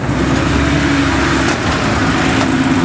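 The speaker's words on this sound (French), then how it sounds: "C'est la Porsche 911 de Marie-Pierre Maurier et Eric Dejour." A Porsche 911 historic rally car in Bernard Béguin replica livery at a historic rally in the Dauphiné passes loud and close, its engine roaring steadily for a few seconds.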